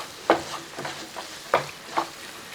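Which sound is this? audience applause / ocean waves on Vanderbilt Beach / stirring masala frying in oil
stirring masala frying in oil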